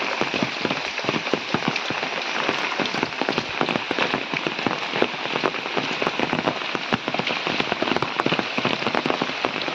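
Steady heavy monsoon rain in the Konkan pattering densely on a surface, close and continuous, with no voices.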